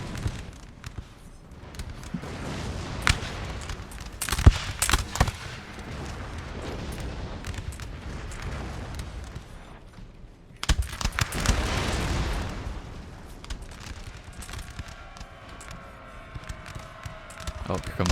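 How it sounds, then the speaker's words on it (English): Artillery fire and explosions in the video game Napoleon Total War: repeated booms and bursts, some sharp and near, others rolling and distant, over a continuous battle din while a person talks. "I remember there's some pretty insane artillery here"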